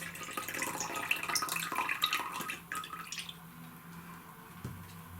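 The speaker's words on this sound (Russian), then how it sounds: "Сейчас я налью вот такое количество воды" Water poured from a container onto a sponge holding a cut orchid flower stalk, a splashy trickling pour for about three seconds that thins to quiet drips, close and clear with no talking.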